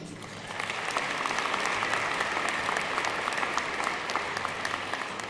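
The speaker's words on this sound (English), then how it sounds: "We'll keep clapping" Graduates and guests at a community college graduation ceremony in Wyoming fill a hall with steady, sustained applause that swells in after a quiet start and holds, close and full, without talk.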